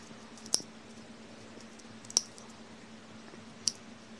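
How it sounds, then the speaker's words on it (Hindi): Three sharp scissor snips, spaced roughly a second and a half apart, trimming the corners of a multicolour yarn pom-pom, each crisp cut standing alone over a faint steady room hum. "अब इसके जो कॉर्नर्स हैं हम उनको ऐसे काट लेंगे"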